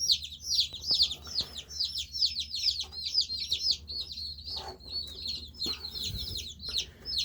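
Baby chicks shipped by mail peep in a steady, high, rapid chorus of overlapping chirps, close and fairly loud throughout, with a few soft rustles and bumps underneath.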